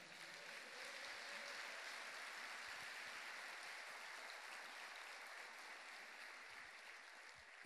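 A church congregation applauds together in a steady, dense wash of clapping that fills the space continuously, loud and sustained from start to finish with no voices over it.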